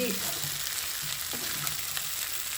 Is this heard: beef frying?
yes